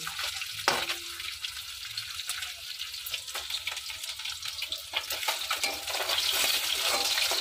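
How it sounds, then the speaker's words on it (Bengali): Rohu fish frying crisp in hot oil, a steady bright sizzle that holds throughout and grows slightly louder toward the end, with a brief clatter early on. "মাছগুলোকে আমি একটু কড়া করেই ভাজবো।"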